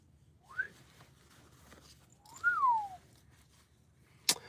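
A person whistles short rising and swooping tones, imitating a Robosapien toy robot, with two separate whistled phrases followed by a brief sharp click, over a quiet background.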